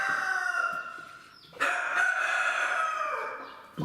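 A broody hen in a backyard coop gives drawn-out, wavering clucks and calls, close and fairly loud, with a sharper outburst partway through and no talking.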